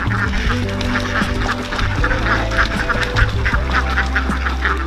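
Free-range ducks on a farm, a dense flock quacking and honking continuously and loudly at close range, with overlapping calls and low steady background noise throughout.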